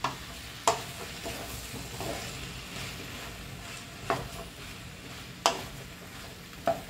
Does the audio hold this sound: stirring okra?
yes